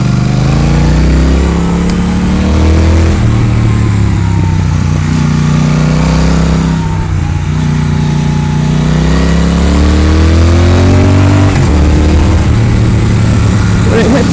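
A motorcycle engine accelerates on a road ride. Its pitch climbs steadily, then drops abruptly at each upshift before rising again, and someone talks over it throughout.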